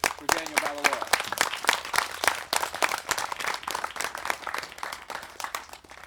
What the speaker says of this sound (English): Please join me in giving a hearty round of applause for Daniel Batalora.